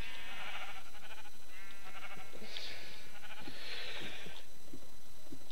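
Sheep in the video game Minecraft bleat loudly in repeated wavering calls that overlap one another over a constant background hum.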